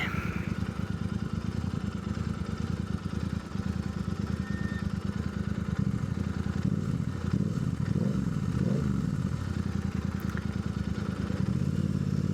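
A 2019 Royal Enfield motorcycle with 21,185 miles rides along with a steady, throbbing low single-cylinder thump, continuous and close, with wind rush and faint rattles over the engine beat.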